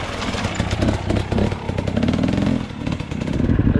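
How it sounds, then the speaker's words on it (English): A dirt bike rides hard enduro over a dried lava riverbed in Costa Rica, its engine loud and close, revving and bucking with rattling clatter throughout. "and Jake decided to show us some more of his hard enduro skills."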